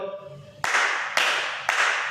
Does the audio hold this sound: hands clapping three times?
yes